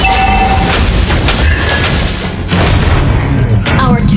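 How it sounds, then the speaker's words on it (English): In the Mobile Legends game, a turret is destroyed with a loud, booming explosion and crashing impacts over dense battle noise, and an announcer voice speaks over it. "Our turret has been destroyed."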